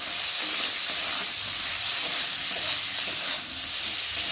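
Masala with turmeric and Kashmiri chilli powder fries in mustard oil for a Bengali fish curry, giving a steady bright sizzle and hiss with faint stirring scrapes, close and continuous.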